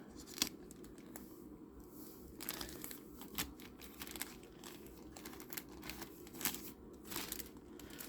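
Very sharp scissors snip and crinkle through packing tape on a Dooney & Bourke handbag package, a steady run of close, crisp cutting and rustling sounds with quiet gaps between snips.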